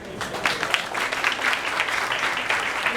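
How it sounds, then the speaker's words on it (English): An audience at an evening talk claps steadily, a dense, moderately loud patter of many hands that continues evenly throughout. "You want to hear you clap?"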